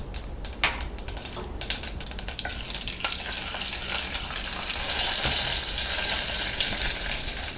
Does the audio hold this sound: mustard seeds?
yes